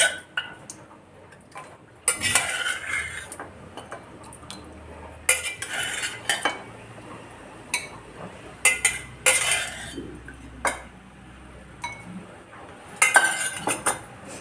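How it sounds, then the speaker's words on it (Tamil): Goat leg soup is ladled into a bowl, metal utensils clinking and tapping against the dishes in scattered light strikes, some spaced and some in small clusters, against a quiet background. "இப்போ ஒரு பவுலில் ஊற்றி நம்ம பார்ப்போம்"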